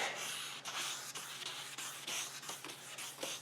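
Fine wet sandpaper rubbed by hand over a car headlight lens, a steady run of quick back-and-forth scratchy strokes, close and fairly quiet with no talking.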